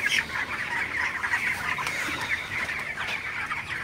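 Broiler chickens in a farm shed on a very hot day cluck and chatter continuously, many birds overlapping in a dense, close flock murmur with no speech.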